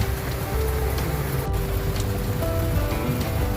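Rain falling steadily on a two-storey rooftop tent atop a Hyundai Staria, a dense, close patter of drops drumming on the fabric, continuous and fairly loud with no talk.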